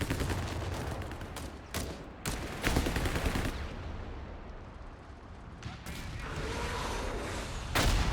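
Double LMG machine-gun fire in a Company of Heroes 3 1v1 battle, repeated rattling bursts separated by short gaps, with louder close volleys among distant shots and a commentator talking under them.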